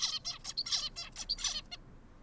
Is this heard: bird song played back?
yes